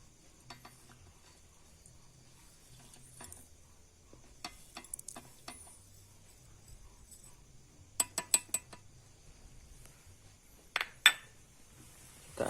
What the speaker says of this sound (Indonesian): Kita aduk sebentar sampai benar-benar larut.